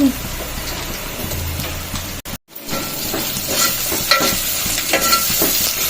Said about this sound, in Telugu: ఉల్లిపాయ అయితే వేగుతుంది కదా